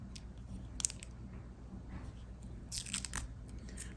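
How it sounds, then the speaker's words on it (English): Protective plastic film peeled off a new Insta360 X3 camera: soft crinkling and brief peeling crackles up close and quiet over a low background hum, with no talking. "So we'll go ahead and take this plastic off for those of you guys who are into the ASMR"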